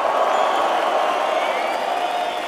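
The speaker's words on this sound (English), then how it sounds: "Make a great applause for Ubuntu!" Loud, dense crowd cheering and applause fill the space for a breakdance crew at an international breaking battle event, a steady roar of clapping and whoops with no pauses.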